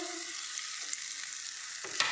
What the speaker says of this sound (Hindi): अब इन्हें भी इसमें डाल देंगे,